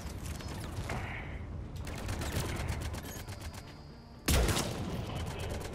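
Gunfire from a sniper rifle in the video game Mass Effect 3, with mechanical clicks and a sharp loud shot near the end over ongoing combat noise.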